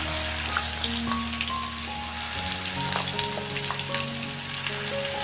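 Ground masala paste frying in hot oil for a dhaba-style matar paneer, a steady close crackling sizzle with faint spits and pops running the whole way through.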